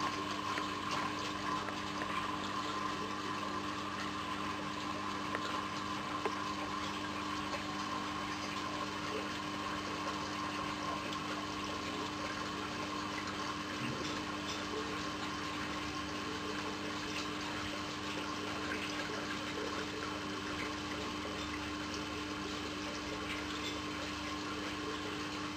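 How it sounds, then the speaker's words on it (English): An aquaponics siphon drains water while the pump slows, a steady low gurgling flow with a constant hum running unchanged throughout. "The pump has slowed down tremendously"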